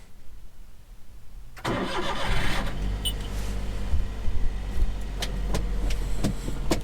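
A 2020 Daihatsu Hijet kei truck with a 5-speed 4x4 drivetrain is started close by. After a quiet moment its engine cranks briefly, catches and settles into a steady, rumbling idle, with a few light mechanical clicks and no talking.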